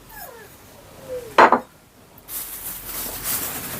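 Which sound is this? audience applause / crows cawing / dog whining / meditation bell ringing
dog whining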